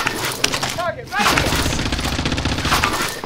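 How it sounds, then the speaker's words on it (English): Gunfire in a shooter video game, a burst of rapid shots with sharp cracks crackling against a busy battle background, with talk mixed in. "Someone's shooting at me"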